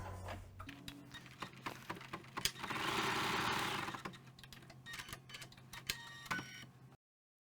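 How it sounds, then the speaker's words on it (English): An embroidery sewing machine runs quietly as it stitches a design, with a rapid mechanical clatter and rhythmic ticking, swelling briefly in the middle before stopping abruptly. "So I'm going to back my machine up one color stop, and we're going to stitch that again."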